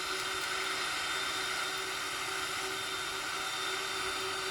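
Steady loud whining roar of Boeing 777-300ER jet engines spooling to takeoff thrust in a flight simulator game, a constant tonal hum throughout, no talk.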